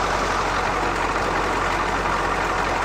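A CUCV truck's 6.2/6.5 diesel engine idles with a fast idle solenoid. It gives off a steady, loud, low rumbling drone with no breaks.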